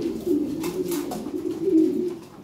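Pigeons coo continuously up close, a low warbling drone that swells and fades over a couple of seconds, with no voices present.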